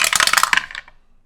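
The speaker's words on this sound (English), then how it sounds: "I'm going to roll some dice." Dice clatter across a hard surface during a tarot reading, a quick burst of bright rattling clicks that bounce and settle within about a second, loud and close, then fade to silence.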